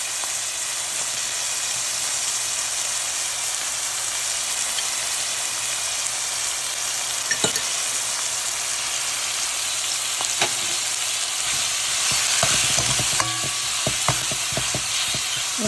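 Onions sautéing in hot oil give a steady, close hiss of frying, with scattered crackles and the clack of stirring growing busier toward the end.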